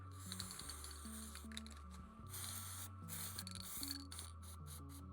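A spray paint can hissing in short, repeated bursts as paint goes onto a rust repair on a Honda CR-V, close and fairly quiet, with brief pauses between sprays and a faint background tone.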